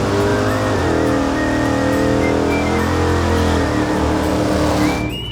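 A 1970s street race car's engine runs loud and steady, deep harmonic roar building as it revs with rising pitch, continuous and close, fading slightly at the end.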